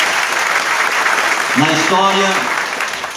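Steady applause from a sizable crowd at a municipal school leadership inauguration ceremony fills the whole stretch, with a voice briefly rising above the clapping midway through.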